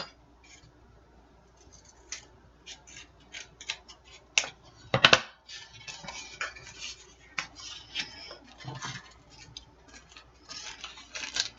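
Scissors trim paper for a micro mini junk journal, giving quiet, close, scattered snips and clicks with one sharper cut in the middle and short pauses between.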